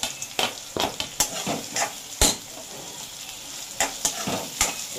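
Green chillies frying and being stirred in a pan, with repeated sharp utensil scrapes and clinks over a soft steady sizzle, close and alone.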